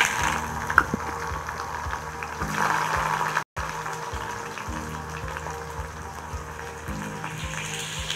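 Onions sizzle in hot oil for a turkey berry broth, a steady soft hiss of frying that holds throughout, with a brief dropout midway and no voices.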